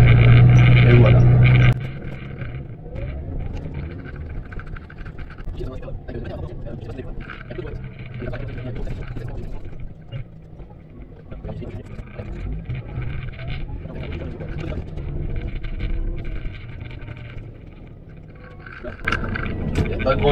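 Farm tractor towing a grain trailer with its tipper body not fully lowered, driving slowly during the wheat harvest; a steady low engine rumble and road noise runs throughout, with a louder burst at the start.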